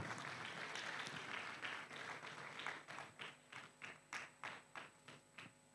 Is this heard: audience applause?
yes